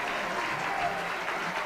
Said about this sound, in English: A round of applause from everyone,